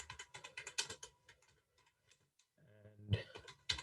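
Keys on a computer keyboard patter in quick irregular clicks, close and fairly soft, with a short pause and a voice humming or speaking briefly underneath.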